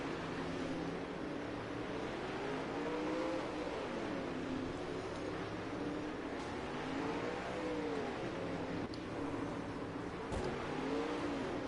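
Sprint cars racing around a dirt track, a continuous distant engine roar with rising and falling passes as the cars circle, steady and unbroken.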